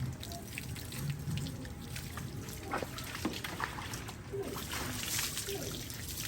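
Water splashing and trickling from a tap or basin as a man's wounded foot is wetted during bathing outdoors at midday, a steady close wash throughout with occasional voices.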